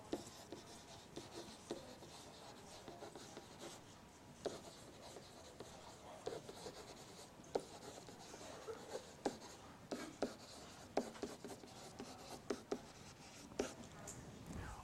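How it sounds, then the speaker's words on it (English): A pen or marker scratches across paper while dotted lines are drawn on a graph, giving short rasping strokes and taps in an irregular rhythm, close and fairly quiet, with some faint talk in the background. "Now at this point I'm going to draw a bunch of dotted lines"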